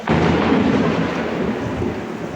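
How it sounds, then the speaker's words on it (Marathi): Loud, close thunder rumbles heavily during a downpour amid city traffic, a sustained deep roll over steady rain that fades slightly toward the end, with no talk. "खूप खूप गडगडाट आहे"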